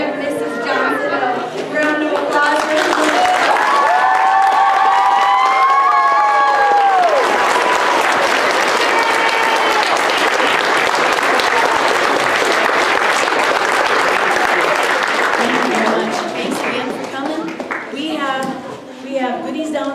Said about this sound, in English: Can we all give Mrs. Johnson a round of applause for her?